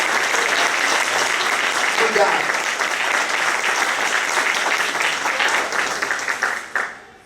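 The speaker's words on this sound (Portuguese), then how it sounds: "Quem pode aplaudir a Jesus?" A church congregation gives a sustained round of applause, loud and dense for several seconds before it tapers off near the end, with a brief spoken word during it.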